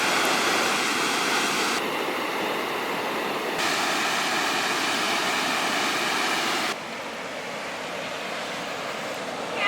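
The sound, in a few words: violent waterfalls near Niagara Falls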